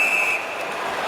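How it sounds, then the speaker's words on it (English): A referee's whistle blows during an NHL ice hockey game between the Minnesota Wild and Vancouver Canucks, a single shrill tone at the start that quickly gives way to the hiss of arena noise. "there's the whistle"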